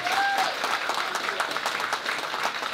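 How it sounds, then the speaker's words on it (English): Audience applause at a cancer charity event honouring a sponsor, a sustained, fairly dense clapping from a gathered crowd at moderate loudness. "Come on, a big round of applause,"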